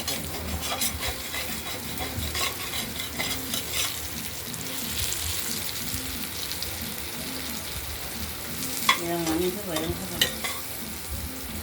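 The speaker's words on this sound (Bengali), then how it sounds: "উচ্ছে ভাজাটা হয়ে এসেছে, এর সঙ্গে হাফ আলু ছিল, আলুটাও দিয়ে দিয়েছি।" Bitter gourd chunks and potato fry in oil in a wok, a steady dense sizzle with stirring scrapes and a few spatula clinks near the end, close and continuous with no talk.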